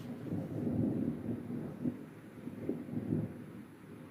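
Low, distant thunder rumbles on and off through an outdoor scene, swelling and fading over a few seconds with faint wind in the background; no voices.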